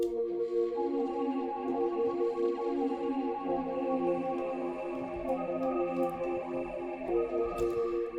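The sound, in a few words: original movie piano keys sample from Analog Lab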